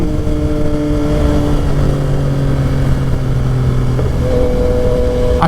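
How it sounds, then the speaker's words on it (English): Loud, steady exhaust note from a Yamaha XSR 900 motorcycle on the move, its engine holding a throaty drone with a slight pitch change toward the end amid wind rush. "I just can't get over the sound of that exhaust. It's just so, I just want to rev it everywhere."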